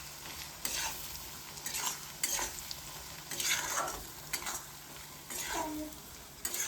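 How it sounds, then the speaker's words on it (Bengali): A spoon stirring homemade garlic pickle with spices and black pepper in a pan, a close, repeated scraping and stirring with a faint sizzle and the occasional clink of metal. "এবার একটু মিলাবো।"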